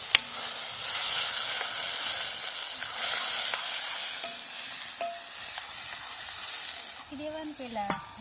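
Drumstick gravy simmers and sizzles in a pan with a steady, close frying hiss and a few light stirring clinks; a voice speaks briefly near the end.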